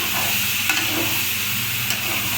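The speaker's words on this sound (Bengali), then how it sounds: "এই যে পেঁয়াজ কিছু দিয়ে দিলাম দিয়া এখন এবারে ভালো করে এখন শুধু ভাজবো পোড়া পোড়া করে বাইজা নিব একদম" Onions frying in a pan while being stirred, with a steady, close sizzling hiss and soft scraping from the stirring throughout.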